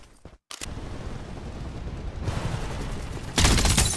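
Rapid bursts of automatic gunfire from the battle royale game Farlight 84 crackle continuously, swelling louder toward the end with a final dense volley, after a brief silent gap near the start.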